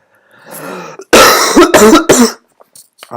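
A voice clears its throat, then several harsh coughs follow in quick succession, loud and close.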